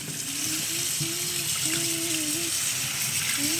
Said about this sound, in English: Now I wash them with the cold water.